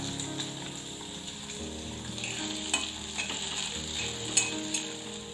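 Shallots and garlic sauté in a pan with a soft continuous sizzle, dotted with small clicks and scrapes from stirring at close range.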